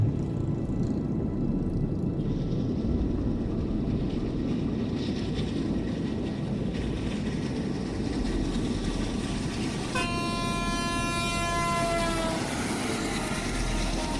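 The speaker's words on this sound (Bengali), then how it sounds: "দূর থেকে ছুটে আসছে কোনো দানবিক ইঞ্জিন শুদ্ধ একটা ট্রেন" A train with a large engine rushes closer, a dense, steady low rumble that fills the whole stretch. A long, loud horn blast cuts in near the end.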